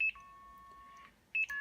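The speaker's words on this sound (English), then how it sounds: "the high to low beep indicates it's been stored to double EEPROM" An Esquire Blue Box running new ATtiny85 code gives a short high tone and then a longer lower one, followed by another high-to-low pair, clean electronic beeps with nothing else behind them.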